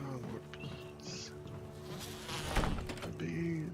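A swarm of bees buzzes steadily through a Resident Evil HD game scene, a continuous droning whine layered with game music and faint tones, swelling briefly louder near the middle.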